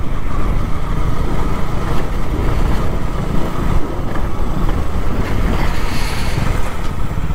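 Motorbike ridden fast along an open road, a steady loud roar of engine mixed with heavy wind buffeting the microphone, continuous throughout with no voices.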